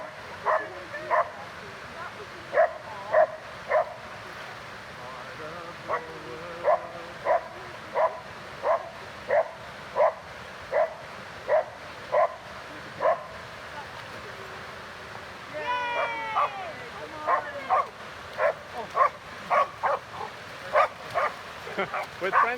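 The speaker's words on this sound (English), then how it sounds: "we stumbled across 2 dogs and a person that were trying to cross a river" Two dogs crossing a river, barking in steady repeated bursts, with a brief yelping whine in the middle; loud and close over a low background hum.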